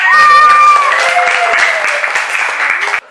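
A group claps briskly in a learning session led by a female teacher, the dense applause running steadily with some voices over it before cutting off abruptly near the end.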